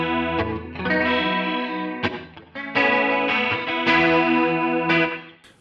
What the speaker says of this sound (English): this one is the original chorus